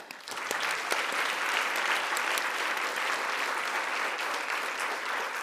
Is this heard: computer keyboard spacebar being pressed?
no